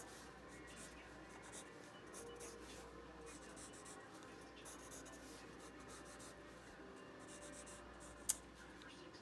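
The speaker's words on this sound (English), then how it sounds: "let me get a different pencil so I can improve the line quality" A pencil draws lines on paper, giving a faint, continuous scratching texture with one sharp tick near the end over a quiet room background.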